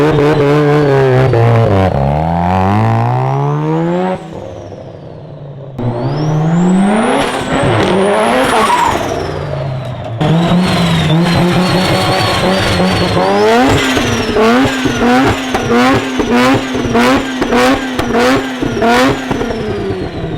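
A Mazda FC RX7 with a fully built 13B rotary engine revs loud and close, climbing repeatedly and then burbling in quick blips, with a brief quieter gap between pulls and no voices.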